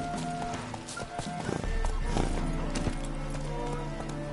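Horse Roach's hooves trotting in The Witcher video game, a steady close clip-clop that runs throughout over soft sustained tonal background sound, with an occasional neigh.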